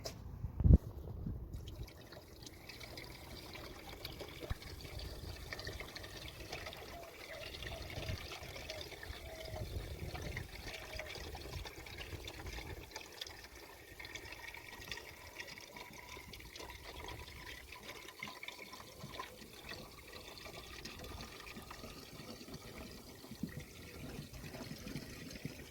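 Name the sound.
coolant being poured into a Chevrolet C1500 cooling system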